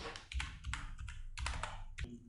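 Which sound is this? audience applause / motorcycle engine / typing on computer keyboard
typing on computer keyboard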